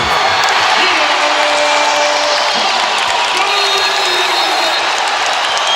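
A basketball arena crowd at an NBA game between the Spurs and the Magic in Orlando roars and cheers steadily throughout, loud and sustained, with a play-by-play commentator talking over the noise.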